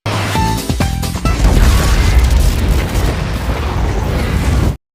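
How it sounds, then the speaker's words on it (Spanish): An explosion sound effect in a Sonic comic story: a loud booming blast that rolls into a sustained rumbling roar and then cuts off abruptly. "Una explosión sucede revelando un ejército completo de zombots quienes los rodean para atacarlos"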